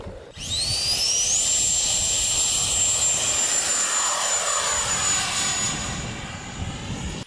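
A 3D-printed Harrier STOL model jet engine, nozzles angled about 25 degrees down, starts with a fast rising whine that settles into a steady high-pitched scream over a rushing thrust roar, loud and close.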